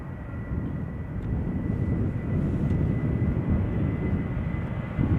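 A KLM airliner departs Schiphol Airport outbound to Billund, its engines giving a continuous, loud, broad roar that holds steady throughout with no talking.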